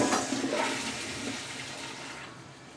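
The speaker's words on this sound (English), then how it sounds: "the reason I wanted Juan Carlos to flush that toilet was really just to kind of show you it's pretty loud" A jet flush toilet gives one loud, rushing flush close by, starting strong and then slowly fading as the water drains away.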